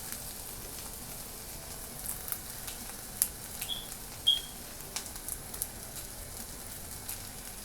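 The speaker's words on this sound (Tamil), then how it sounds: "இப்போ இதையும் நல்லா வதக்கிடலாம்." Soft sizzling and occasional crackles from onions and dried red chilies sautéing in a pan, quiet and close, with light scattered pops over a low background hiss.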